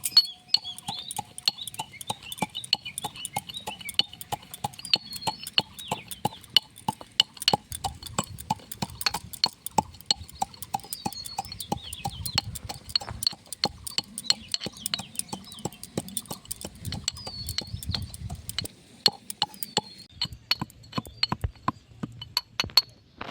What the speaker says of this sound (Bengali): ওটা হামল দিস্তায় দিয়ে নেব দিয়ে এবার এটা গুঁড়ো করে নেবো